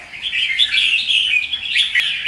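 A red-whiskered bulbul (chào mào) calls in a steady run of bright, warbling chirps, loud and close, with almost no pause and no other sounds.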